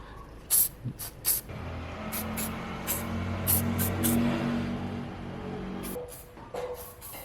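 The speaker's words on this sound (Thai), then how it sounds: "สเปรย์ที่ใช้เป็นสเปรย์หล่อลื่นนะครับ ก็นำมาใช้ฉีด" Lubricant spray hisses onto the frame of a metal roof in several short bursts, then one longer sustained spray, with a low vehicle-like hum in the background; no one speaks.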